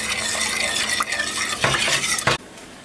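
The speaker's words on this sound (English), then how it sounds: "keep stirring it until the sauce thickens a little and it's smooth" A spoon scrapes and swirls through cheese sauce in a pot on the stove, giving a close, continuous stirring with soft sizzling and clinks against the pan, ending abruptly.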